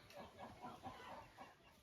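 A farm rooster gives a run of soft, low clucks in a loose rhythm, faint and fairly close, with a light background hum.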